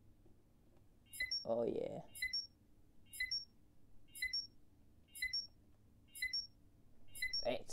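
Regular high electronic beeps from a bomb timer in a video game repeat about once per second, sharp and steady, while someone briefly speaks over the start.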